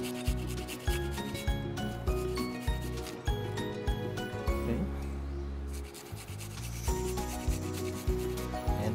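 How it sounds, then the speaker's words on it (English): Garlic is grated against a grater at close range in a home kitchen, making rhythmic rasping strokes that repeat steadily and scrape loudly with no talking. "grate some garlic."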